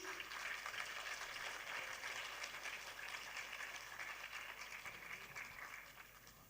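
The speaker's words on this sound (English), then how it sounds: "A huge round of applause for them," At a school competition in an auditorium, an audience gives a quiet, steady round of applause for a school team, heard faintly from a distance and tapering off at the end.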